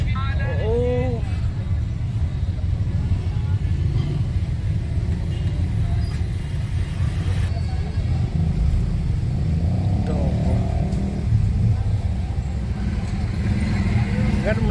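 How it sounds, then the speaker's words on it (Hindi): Heavy road traffic rumbling steadily and loudly throughout, a continuous low roar of cars, trucks and buses with a few horn-like tones, while someone speaks over it. "Oh my God, oh my God, इतना ट्रैफिक, इतना ट्रैफिक।"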